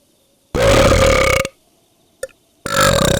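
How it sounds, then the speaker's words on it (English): A person lets out two loud, throaty burps, each lasting about a second, separated by a brief pause and a tiny click in between. "Give us a big burp"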